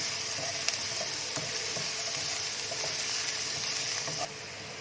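Chicken Manchurian sizzles steadily in a pan over raised heat, a close continuous frying hiss with faint stirring clicks and no talk.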